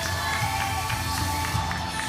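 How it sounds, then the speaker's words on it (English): Crowd noise from spectators at a powerlifting meet, a steady dense roar with scattered shouts and claps running through the whole stretch at moderate loudness. "And you can hear the crowd."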